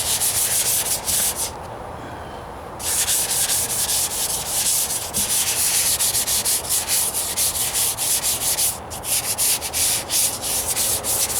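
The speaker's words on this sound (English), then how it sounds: "it's a little bit of wet sanding." Wet sanding of painted panels on the trunk of a 1998 Toyota Corolla during a rattle-can paint job, a close, continuous hissing scrub in steady back-and-forth strokes with one brief pause, no talking.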